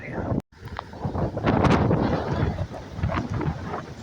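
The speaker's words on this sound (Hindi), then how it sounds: "ज़्यादा हवा चल रही है।" Strong gusting wind buffets the microphone outdoors during rainy, stormy weather among fallen trees, a loud continuous roar with rumbling bursts and a brief dropout near the start.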